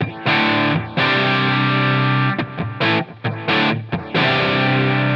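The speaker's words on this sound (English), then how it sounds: "it's obviously going to hit less signal into the distortion pedal, cleaning up our tone" Electric guitar driven through an external distortion pedal looped into a Line 6 Helix, playing loud sustained distorted chords with a few short breaks and choppy strums, heard alone with no talking.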